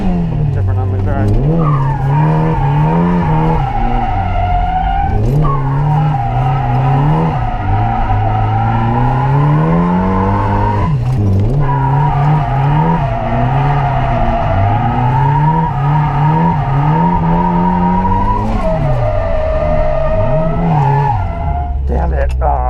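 A turbocharged Mazda Miata at a drift event slides with sustained tire squeal over a revving engine. The squeal recurs in long wavering bursts broken by short gaps, loud and close for the whole stretch.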